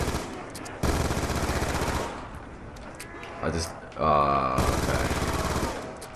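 Rapid bursts of B23R pistol fire in Black Ops 2 Zombies on the Nuketown map, loud repeated shots in several volleys with game effects between them, and someone briefly speaks.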